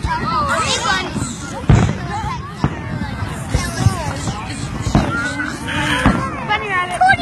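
Fireworks bursting at the 2016 Twin Falls fireworks show, with several sharp, booming explosions spaced a second or so apart under continuous crowd chatter and nearby voices talking.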